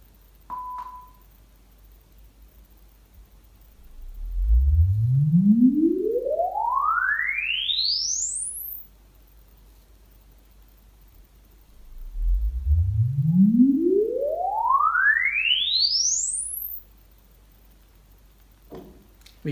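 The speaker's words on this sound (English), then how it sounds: "you will hear 1 marker tone and then 2 sweep tones, 1 for the left channel, 1 for the right channel" A brief steady calibration marker beep opens, then two long rising sine sweeps, one for the left channel and one for the right, climb from deep bass to a piercing high pitch, separated by silence.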